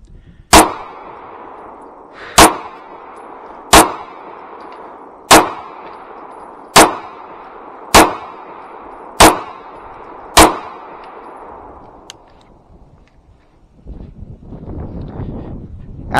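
Eight sharp pistol shots fired at a target seven yards away in a line drill, evenly spaced about one to one and a half seconds apart, each crack loud and close with a short ringing tail, followed by quiet wind noise.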